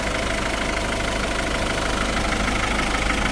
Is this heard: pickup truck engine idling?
yes